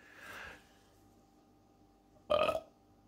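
A single loud, close burp near the end, brief and strong, preceded by a softer breathy exhale in an otherwise quiet space.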